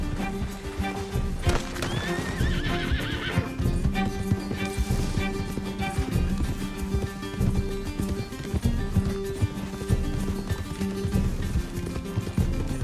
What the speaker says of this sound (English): Can't this horse go any faster?